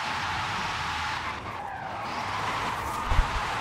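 A Porsche Taycan Turbo S in Forza Horizon 5 drifts with tires skidding, a dense continuous hiss of tire noise under a low electric-motor hum. It runs steady and loud for a few seconds with a small thump near the end.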